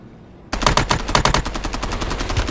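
Rapid automatic gunfire from the video game Call of Duty Warzone bursts in after a quiet moment, a loud, dense stream of shots that keeps going without a break.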